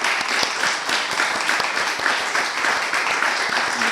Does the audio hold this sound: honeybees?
no